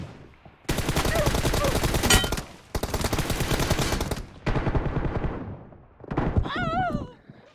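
Several long, loud bursts of automatic gunfire in PUBG Mobile, each a dense rattling stream separated by short gaps, the last burst overlapped by an electronic whistling tone.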